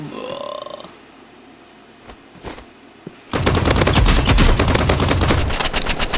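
A rapid, loud burst of automatic fire from the Exo gun in the video game Rivals erupts after a few soft clicks and lasts several seconds at a steady close rhythm, with a brief voice heard before it.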